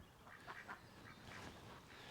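Faint honking calls from geese sound a few times at a distance over a soft outdoor hiss, with no talking.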